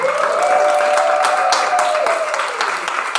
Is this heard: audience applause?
yes